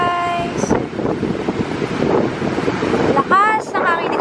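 Strong beach wind buffets the microphone in loud, broadband gusts, with surf likely rumbling underneath and a voice talking briefly at the start and end.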